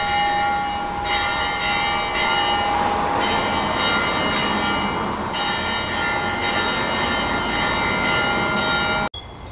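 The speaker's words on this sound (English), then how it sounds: "church bell time." Bells of a Greek church ring continuously over a dense, steady wash of sound, loud and sustained, ending abruptly.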